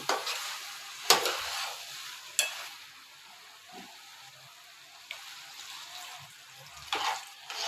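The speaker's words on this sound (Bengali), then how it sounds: "একটু পানির দরকার, তো পানি এড করবো।" Prawn and taro-root curry sizzles in a hot pan while it is stirred with scraping strokes, and several louder splashy bursts come as water is poured in. No one speaks.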